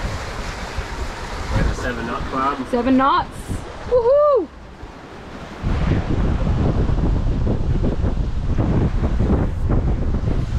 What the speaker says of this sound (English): All right, we're getting a few more gusts again.